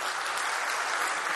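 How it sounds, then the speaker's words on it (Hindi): Loud, dense applause from an audience at a grand official ceremony in Madhya Pradesh, a sustained wash of clapping that fills the whole moment without pause. "एक बार जोरदार तालियां हो जाए"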